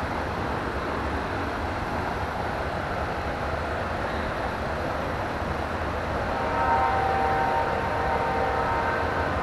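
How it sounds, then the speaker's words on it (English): A train passes nearby, heard as a steady loud rumbling roar that fills the whole stretch, with faint horn-like tones rising near the end and no talking. "Pardon the train, y'all."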